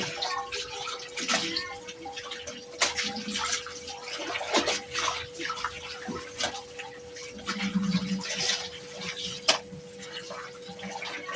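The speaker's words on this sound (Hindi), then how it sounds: "मैं कपड़े धो रही हूँ।" Clothes are washed by hand with water, with intermittent splashing, sloshing and dripping at close range alongside occasional sharp knocks and a faint steady hum in the background.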